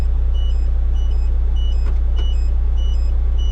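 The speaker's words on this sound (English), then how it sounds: "these beepers, so that you don't drive down the road with your indicator on and you don't realise" A Kenworth truck's indicator reminder beeper chirps in a steady, regular series of short high beeps about every two-thirds of a second over a constant low engine idle hum inside the cab.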